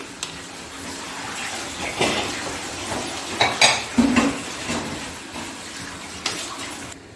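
Chicken spaghetti tossed in a pan with oil and salt makes wet squelching and clattering sounds, with utensils scraping and knocking against the metal in uneven bursts, close and fairly loud.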